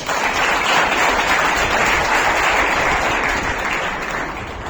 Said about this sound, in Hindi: तो उनके लिए जोरदार ताली